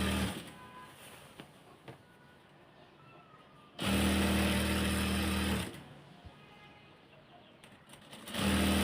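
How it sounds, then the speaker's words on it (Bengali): A sewing machine stitches a salwar in two bursts of rapid whirring, close and clear, with quiet pauses between them and another burst starting at the end. "চিকন করে চিকন করে এখন সেলাইটা দিচ্ছি"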